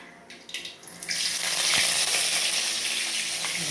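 Mustard seeds and curry leaves drop into hot oil and burst into a loud, dense sizzle that spreads quickly, with a few crackles and spits on top of the steady frying hiss.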